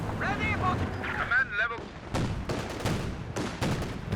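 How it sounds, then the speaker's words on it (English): Machine gun fire and explosions in the Company of Heroes 2 battle game, short bursts of rapid shots and booms after a moment of voices, loud and layered. "Pretty good connection on the machine gun there."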